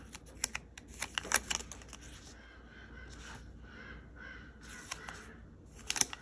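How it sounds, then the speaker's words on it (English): Crows cawing outside, heard from indoors at a distance in repeated harsh bursts, mixed with close, light tapping and rustling of paper stickers on a desk. "I always like the little birds when they're like chirping outside, but the crows are like, I'm not a fan of the crows."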